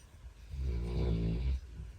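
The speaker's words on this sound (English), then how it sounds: "hear my dog snoring in the background" A pet dog snores in the background, one long drawn-out rumbling breath that swells and fades, alone without talk.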